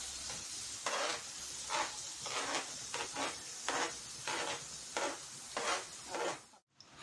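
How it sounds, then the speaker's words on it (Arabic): Beef liver dropped into a pan of hot ghee sizzles steadily, with bursts of crackling and stirring scrapes rising and falling for several seconds before a brief pause. "احط معلقه سمنه، ما تسخن قوي اروح نازله بالكبده"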